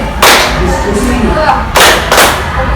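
Two loud, sharp bursts of hand clapping in a classroom clap pattern, each a short cluster of close, ringing claps separated by a pause, with low room noise in between.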